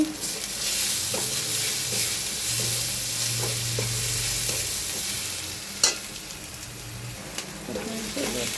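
Garlic and green chillies fry in a pan with a steady, close sizzle, broken by a few soft scrapes and clicks as they are stirred.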